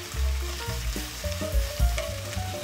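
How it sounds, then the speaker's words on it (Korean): Bacon stir-fries with garlic in a pan for a bacon udon dish, crackling sizzle under repeated clacking and scraping of a utensil against the pan, close and busy, with no one talking. "준비해놓은 베이컨 넣고 또 살살 볶아줍니다"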